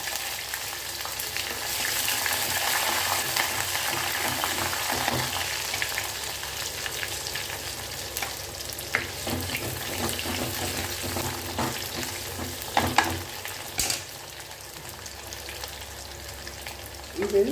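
Onions sauté with a few garlic cloves in a pan for an Andhra-style curry, a continuous broad sizzle that stays fairly even, broken by occasional spoon scrapes and knocks near the end.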